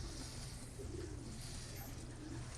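Choco Moko, a breeder bird, gives soft, low cooing calls, faint and steady under a constant background hiss.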